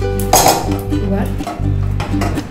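A utensil scrapes and clinks against a pot as beetroot pieces are scooped out of homemade tomato sauce. The close metallic scraping and knocking comes in a few uneven strokes, and a voice may sound faintly underneath.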